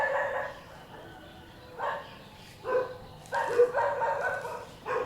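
Several stray dogs on a mountainside in Phatthalung, Thailand bark repeatedly in irregular bursts, some overlapping, at moderate distance with quieter gaps between.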